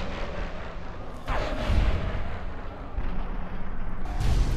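Gunfire in Fallout New Vegas: a couple of loud, booming shots with rumbling tails, close and heavy, standing alone.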